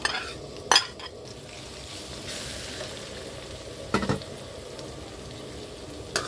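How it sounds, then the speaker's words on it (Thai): Crushed garlic fries gently in oil in a pan over low heat, a soft continuous sizzle broken by a few sharp clinks and scrapes of a utensil against the pan. "ไปเจียวกระเทียมกันค่ะ มาเจียวกระเทียมกัน"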